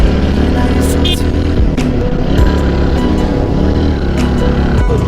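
A motorcycle rides along mountain roads on the way to Malika and Gausara, with a steady, loud engine drone and wind rumble throughout, a few sharp clicks and knocks, and talking over the top.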